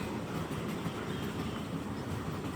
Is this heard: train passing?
yes